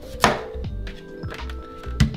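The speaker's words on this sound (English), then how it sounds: "Sweet potatoes are hard, so I always just cut the ends off" A knife chops through a hard sweet potato on a cutting board, with several distinct thuds of the blade striking the board, two of them louder and more forceful, in a quiet kitchen.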